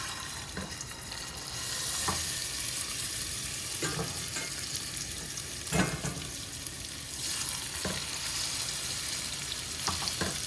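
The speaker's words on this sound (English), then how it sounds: "we got the salmon searing away" A salmon fillet sears skin side down in a hot pan, giving a steady, close sizzle and crackle with a few sharp pops and utensil knocks scattered through it, and no voices.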